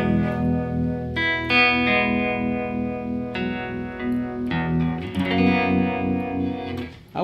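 Electric guitar played through the harmonic-style tremolo on a Fender Tre-Verb pedal, sustained chords and notes pulsing with a warbly, wavering modulation, loud and close with no talk.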